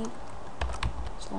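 Soft computer keyboard typing at a desk, a few scattered keystrokes with low background hum, fairly quiet and close.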